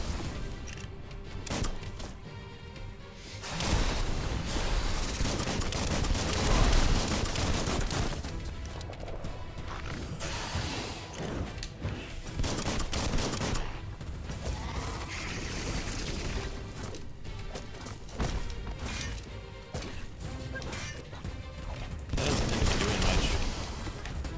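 Gunfire from the video game Biomutant, heavy and continuous, with dense bursts of shots and booms layered over game music and effects at steady high loudness throughout.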